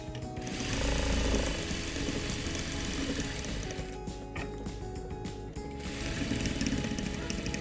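A sewing machine stitches a fabric face mask with a fast, even mechanical whir and rattle, running close and fairly loud in two long bursts with a short slowdown in between.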